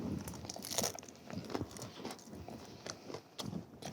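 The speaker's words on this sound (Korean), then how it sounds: "아, 껍질이 씹히나요? 씹혀." Crispy shrimp shell is crunched while eating, with close, repeated crackling bites and chewing that form a steady crunchy texture over a few seconds.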